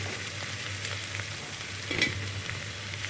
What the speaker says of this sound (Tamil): கொஞ்ச நேரம் எண்ணெயில் அப்படியே வதங்கிட்டோம்